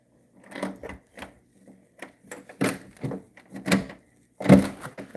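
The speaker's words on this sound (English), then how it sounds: "Let me get this door open." An ordinary door being opened, with a series of separate knocks, clunks and rattles of the handle and latch spread over several seconds, the loudest thump coming near the end, all close by with no talking.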